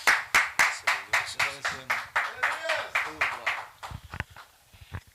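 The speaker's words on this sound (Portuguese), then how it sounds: "Recebamos o apóstolo de Cristo Jesus, com palmas bem alegres para o Senhor" A church congregation claps in a steady, rhythmic beat, loud and close, with a voice speaking over it before the clapping thins out.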